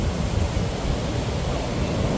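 Steady, broad rushing of Black Sea waves surging against the pier in Batumi, Georgia, a continuous washing roar with a low rumble and no voices.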